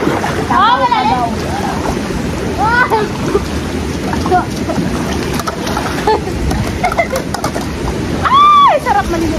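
Children bathing in a river in hot weather, splashing and playing near the bank, with water sloshing continuously and bright childish shouts and squeals rising over it.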